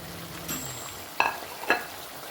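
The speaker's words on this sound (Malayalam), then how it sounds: "കഴുകി നുറുക്കി വെച്ചേർന്ന ഫിഷ് ഇതിനകത്തേക്ക് ആഡ് ചെയ്ത് കൊടുക്കുകയാണ്." Washed, cut fish pieces going into an uruli with vegetables for a Kerala-style fish curry with apple, giving a soft steady sizzle with two brief louder clatters as the pieces drop in.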